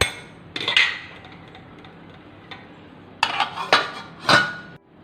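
Metal clinks and knocks of a lid being set onto a cooking pan of mutton liver fry, a single clatter early, then a cluster of three or four sharp close taps and rattles near the end, with quiet kitchen hiss between.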